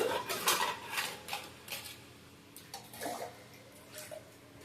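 Water pouring into a cooking pot of tamarind sambar, faint splashing bursts with light clinks of the pot, no talk.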